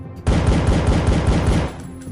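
Rapid automatic gunfire from the Counter Strike visual novel game, a loud sustained burst of shots emptying a magazine, then cutting off abruptly.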